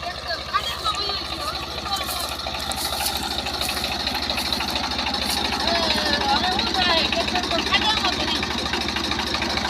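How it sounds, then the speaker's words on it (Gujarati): A tractor engine runs steadily after slipping into a roadside ditch, a continuous mid-pitched diesel drone heard close and fairly loud throughout, with people talking over it. "આ ખાડામાં નાખી દીધો, ખાડામાં ટ્રેક્ટર।"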